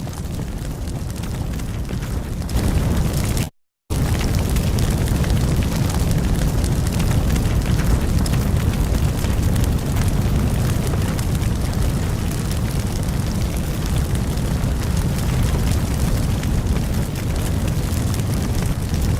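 Roaring fire spreading through a building in a firefighting simulator game, a loud, steady broadband rumble and crackle that holds almost the whole time, broken once by a brief moment of silence near the start.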